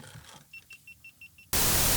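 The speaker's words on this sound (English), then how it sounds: "that beeping you heard was the camera dying again" A camera's low-battery warning gives a rapid series of seven short, high electronic beeps at an even pace, then a sudden burst of loud static noise cuts in.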